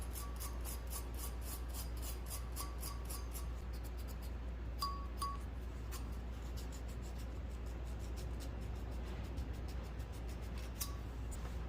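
A wire brush scrubs the headlight terminals of a 1979 Chevrolet C10 square body truck, faint and close, with quick rhythmic scratching strokes at first that turn sparse and irregular.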